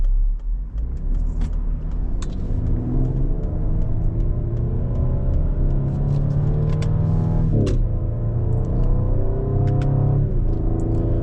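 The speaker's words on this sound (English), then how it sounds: "it makes a nice kind of blurp sound when you do upshift" A 2021 Ford Explorer ST heard from inside accelerates through the gears, its engine note climbing steadily, breaking with a brief blurp at each upshift, then rising again over a continuous close rumble.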